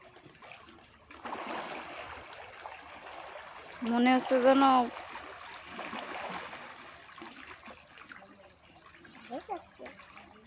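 Rushing water flows steadily in the background at moderate volume, with a person speaking briefly over it.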